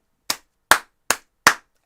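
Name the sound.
clapping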